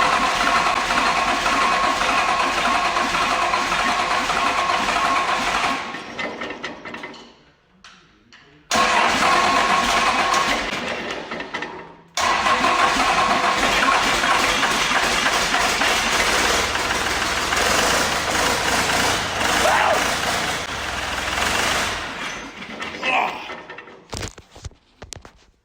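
A 12-valve diesel in an International Travelall cranks and fires, then runs roughly at close range; the engine cuts out twice and restarts, ending with a few sputters as it dies away.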